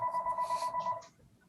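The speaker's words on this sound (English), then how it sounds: "Somebody get the phone." A telephone bell rings in a room during a Conservation Commission meeting, one steady electronic trill for about a second, faint and fairly distant, then breaking off.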